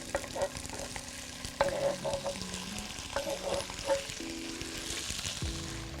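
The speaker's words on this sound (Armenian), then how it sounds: "Ինչպես հիշում եք, ասացի, որ սունկ պետք է տապակենք։" Marinated mushrooms sizzle steadily in a pan while a utensil stirs them, giving intermittent scraping and clattering strokes over the continuous frying hiss. The sound is close and moderately loud, with no talking.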